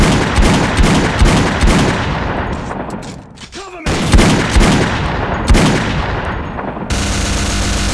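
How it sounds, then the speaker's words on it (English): Rapid gunfire in the video game Max Payne 2 with the Vampire Slayer mod, loud bursts of automatic shots and booms in near-continuous volleys, briefly dropping off before resuming. "I can still hear gunshots."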